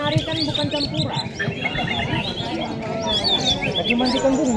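A white-rumped shama sings varied, fluting whistles and chirps close by at a songbird contest, while people talk quietly underneath.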